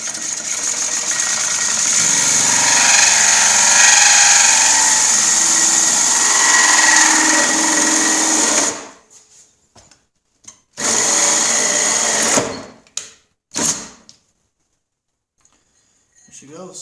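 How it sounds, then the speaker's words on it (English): A power drill whirs continuously at high speed for several seconds during a Honda Fourtrax 70 restoration, then stops; after that come a few short bursts and bumps with silence between. "Time to do some drilling."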